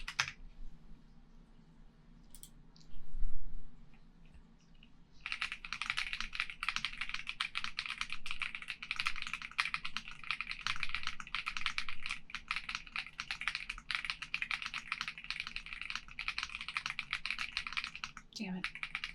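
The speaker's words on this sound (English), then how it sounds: "Keyboard noises. I'm gonna go to monkey type again." Computer keyboard typing on Monkeytype, a rapid, steady stream of close key clicks running for most of the stretch after a brief quiet start with a soft voice.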